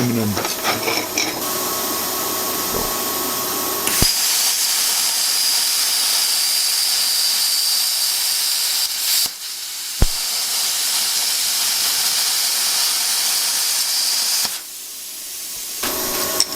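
An ArcCaptain Cut50 plasma cutter cuts aluminum with a loud, continuous hissing roar, broken by a few brief pauses and clicks, close and sustained.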